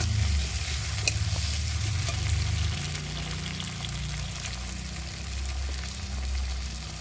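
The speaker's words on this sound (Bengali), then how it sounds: "দেব টমেটো কুচি একটা, একটু ভালো করে নেড়ে নেব।" Mustard paste and chopped tomato frying and being stirred in a pan for a tilapia curry, a continuous loud sizzle with low rumbling bubbling and occasional spoon scrapes throughout.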